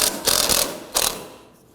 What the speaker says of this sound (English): Now as we loosen this one here just a little bit, you're going to see that strut start to drop out.